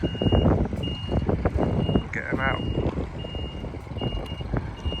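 A loaded articulated lorry turns on a site-clearance job, its reversing alarm sounding a short run of repeated beeps over constant engine and machinery rumble, with a voice briefly calling out nearby.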